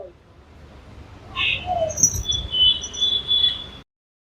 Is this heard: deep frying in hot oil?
no